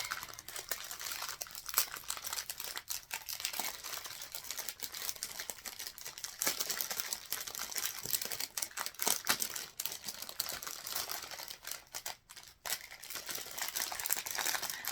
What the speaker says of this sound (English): Sorry about the crinkling, but that's the way this is.